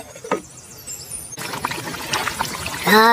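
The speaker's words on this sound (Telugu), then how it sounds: "ముక్కలు మునిగే వరకు నీళ్ళు పోస్తున్నాం కదండి" Water pours into a pot of spicy Telangana-style mutton curry, a steady close trickle and splash that lasts a few seconds before bubbling starts near the end.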